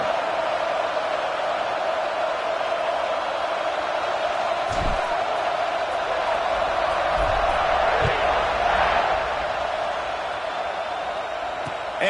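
Steady roar of a stadium crowd at a college football game, Auburn against SMU, held at a constant loud level through a kickoff, with a few thumps and swells of cheering and a commentator talking over it.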